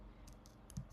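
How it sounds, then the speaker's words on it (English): Typing on a MacBook keyboard, a few light, quick key clicks at an uneven pace, soft and close, ending in two slightly heavier taps, with no speech. "by typing the prompt cd"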